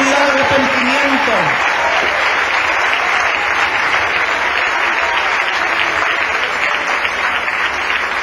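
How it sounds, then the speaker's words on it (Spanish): A church congregation applauds loudly and steadily at a worship service, sustained clapping filling the room for the full stretch, with a voice briefly heard at the start. "Den un aplauso, iglesia del Señor."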